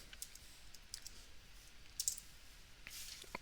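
Computer keyboard keys clicking while Java code is typed in an editor, a few faint scattered taps with a slightly louder cluster near the end, quiet and close.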